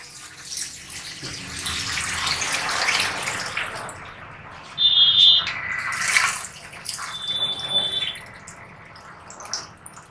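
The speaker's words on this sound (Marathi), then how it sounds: "आता टाकतो आपण याच्यात सूप म्हणजे मटण शिजवलेलं आलनी पाणी" Mutton broth poured into a pot of mutton curry in a few splashing bursts, with sizzling and clinking of a vessel between pours, close and moderately loud.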